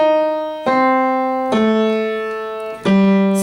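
Slow piano notes of a boogie riff struck one at a time with long ringing sustain, three or four separate low chords spaced apart, played alone.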